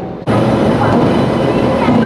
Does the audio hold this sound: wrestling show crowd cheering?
no